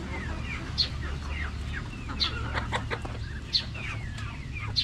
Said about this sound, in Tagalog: Yung mga manok natin gusto pa rin lumabas